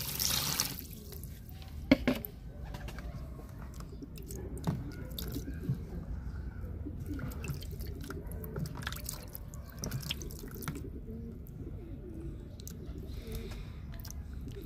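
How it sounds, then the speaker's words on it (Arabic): A bird is rinsed in a bathtub as water is poured over it, giving quiet, scattered drips and small splashes close by in an otherwise hushed room. "ها هو الماء باش غادي نشللو اخر مره"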